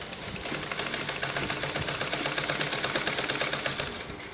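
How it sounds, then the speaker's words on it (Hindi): A sewing machine stitches a blouse piece with a fast, even, rapid clatter that runs steadily and close up, with no voices. "ऐसे सिलाई को बस चारों तरफ घुमाना है, कपड़े को बराबर बराबर रख के।"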